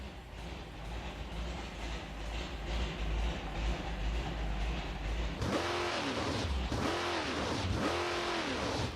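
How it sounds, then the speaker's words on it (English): V8 Mustang engine in a racing video game: a dense roar builds, then several rising-and-falling rev sweeps repeat rhythmically, loud and continuous with no talk. "I feel that revs a little too quickly."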